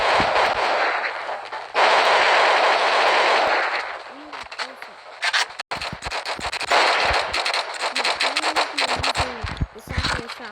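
A Sakura automatic shotgun fires in the video game Flag Wars, loosing dense streams of rapid, punchy blasts in long bursts separated by brief pauses, loud and close throughout.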